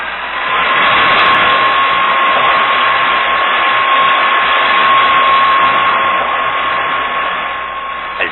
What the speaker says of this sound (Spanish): encendió nuevamente el pequeño y potente motor del submarino